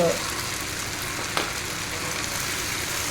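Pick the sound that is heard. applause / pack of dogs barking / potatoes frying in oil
potatoes frying in oil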